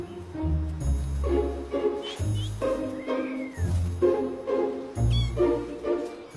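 A cat meows several times to ducklings in short, rising calls over a steady low background hum, with some faint voices mixed in.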